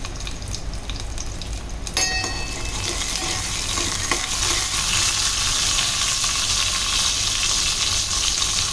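A loud, steady sizzle of garlic hitting hot oil for tempering begins abruptly and keeps hissing, with a faint scrape or stir partway through.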